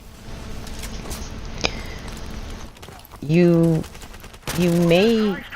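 Rapid automatic gunfire from a weapon in Call of Duty Modern Warfare Remastered, a fast continuous burst with one sharp shot, then a voice speaks over the quieter game sound.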